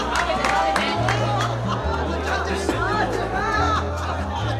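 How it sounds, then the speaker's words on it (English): A rowdy, excited audience streams into a theater, a steady wash of crowd chatter and babble with occasional whoops and cheers, loud and continuous under a low sustained musical drone. "the trio sat backstage as the audience began entering inside the theater, as they all arrived very rowdy"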